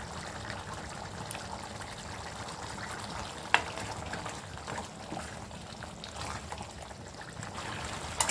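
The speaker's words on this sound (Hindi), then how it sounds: "तेज फ्लेम पे इसको भूनते हुए पकाएंगे।" Meat cooked with black pepper and lemon juice sizzles and fries over a high flame as its water cooks off, a steady low crackling hiss with a sharp clack of a utensil partway through, no voices.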